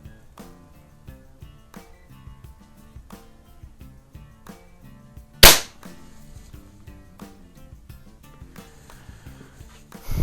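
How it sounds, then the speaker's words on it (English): A .177 pellet pistol fires a single sharp, loud crack across a garage, standing out from quieter clicks and handling noise around it. "Again, we're just shooting 20 feet across the garage here."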